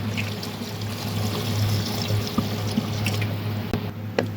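Water pours steadily into a metal pressure cooker holding mutton, a continuous splashing gush over a low hum, with a couple of small clinks near the end.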